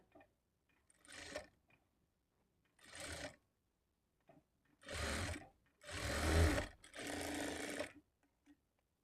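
A sewing machine stitches a blouse lining in five separate bursts of whirring that grow longer toward the end, close up and with no talk, separated by near-silent pauses.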